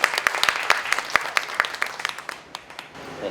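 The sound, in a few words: audience applause welcoming a speaker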